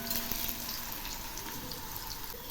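Raw potato pieces frying in hot oil with cumin seeds and a bay leaf, a steady close sizzle with faint crackle throughout, no voices.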